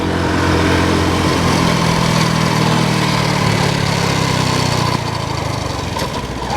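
A Honda Cub C90 motorcycle's small engine drones loud and close at about 28 mph, holding a steady buzzing note before easing off slightly near the end.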